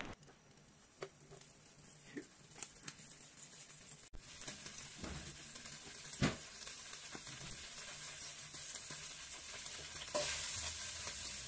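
Pork curry ingredients (butter, potato, carrots, onion) being sautéed in a pan, giving a steady close sizzle with intermittent stirring scrapes and clinks, growing louder near the end.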